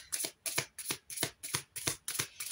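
A deck of oracle cards is shuffled in quick, even riffles, about eight crisp bursts in under three seconds, close and without talk.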